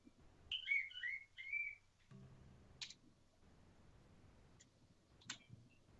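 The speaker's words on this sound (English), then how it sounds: "That was a weird sound my bird just made." A pet bird gives a few odd, warbling whistles early on, then falls quiet apart from scattered faint clicks and ticks in a hushed room.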